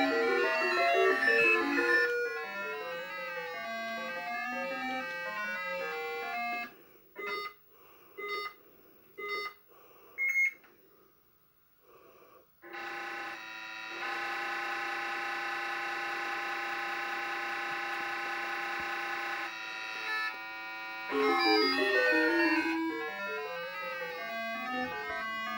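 Harsh, beeping chiptune soundtrack of the Sega Genesis game Crazy Bus plays loud and close in repeating synthetic melodies, broken by a few short blips and pauses before a long sustained buzzing passage, with no talking.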